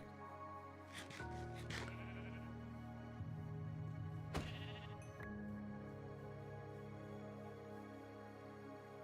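Sheep in the Minecraft video game bleat several times in quick, wavering cries, fairly loud and close, with a few sharp clicks between them and no talking.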